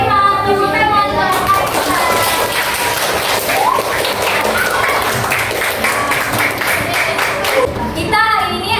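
Schoolchildren in a classroom clapping their hands together, a busy loud patter of many small hands lasting several seconds, with children's voices and chatter mixed in and a brief pause near the start and end.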